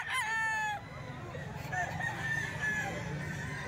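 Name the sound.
roosters crowing, many chickens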